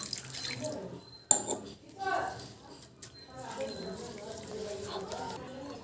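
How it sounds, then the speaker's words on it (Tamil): Torn rose petals rinsed under running water from a tap, a steady splashing trickle with occasional drips, while a person talks over it and birds chirp faintly in the background. "இப்போ நான் தண்ணி வச்சு வாஷ் பண்ண போகிறேன்"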